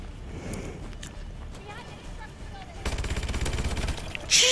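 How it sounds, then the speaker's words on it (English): Rapid automatic gunfire from a fast-firing gun in a Call of Duty zombies match, a quick rattling burst that starts partway through and runs steadily to the end over ambient game noise. "Jesus Christ, this gun is fast. Oh. Rapid fire."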